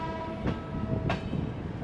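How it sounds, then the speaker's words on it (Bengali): An express train pulls out of Kamakhya Junction station on a Guwahati to Kolkata run, a steady rumble of rolling carriages with two brief sharp clanks, heard close and alone. "এই ট্রেন আমাদের ছেড়ে বেরাচ্ছে কামাখ্যা জাংশন"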